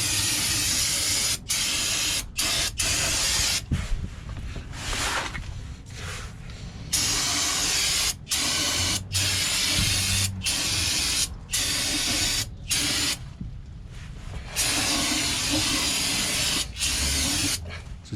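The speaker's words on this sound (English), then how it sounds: "We got some of that AutoZone brake cleaner. We're gonna spray the surface out here before we wipe it down." AutoZone brake cleaner sprays onto a Silverado differential surface in long, loud hissing bursts with brief gaps between them, running nearly continuously up close.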